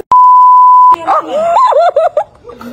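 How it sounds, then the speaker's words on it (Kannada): A loud steady censor bleep tone runs for nearly a second, bleeping out a word, then a voice follows saying a few words. "Beep guys, beep."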